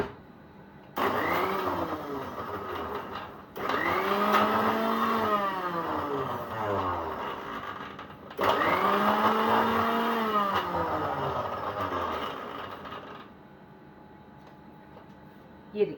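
An electric blender churns jalebi batter in loud motor bursts, its whine rising and falling in pitch over three runs separated by short pauses, then dropping to a quieter hum at the end.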